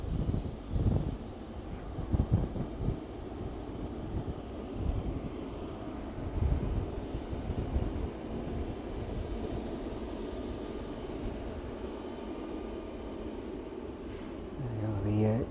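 A jet airliner rumbles steadily at East Midlands Airport in the evening, a broad, continuous engine roar heard from nearby with wind buffeting the microphone, while a person talks over it.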